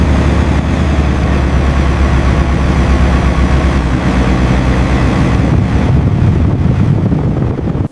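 Engines of a C-5C cargo plane, found buried in desert sand, roar in a loud, steady low drone with wind buffeting the microphone, holding for several seconds and cutting off abruptly at the end.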